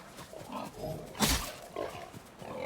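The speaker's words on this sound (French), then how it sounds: "on doit se battre contre des cochons" Pigs grunt and oink in the Ghost of Tsushima video game, a few low snorting calls with one louder squeal burst in the middle, heard alone.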